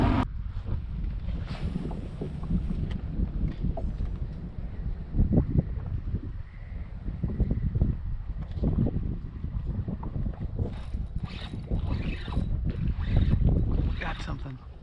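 A fishing boat motors out through a shallow creek about two feet deep, its engine droning steadily under heavy wind buffeting on the microphone, with water noise throughout and a few brief voices.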